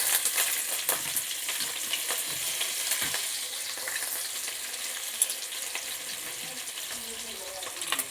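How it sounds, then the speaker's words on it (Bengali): Onion dropped into hot oil crackles into a steady, fairly faint sizzle, with a few light clinks and scrapes from the pan, heard alone without talk. "তেল আমার গরম হয়ে গেছে এবার দিয়ে দিচ্ছি পেঁয়াজ"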